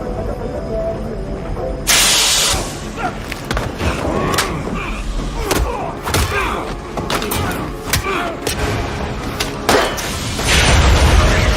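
Rifle fire and explosions rip into an aircraft in an action film, with a dense, noisy barrage of sharp cracks, heavy thuds and hissing blasts going on without a break, and one sudden louder surge partway through.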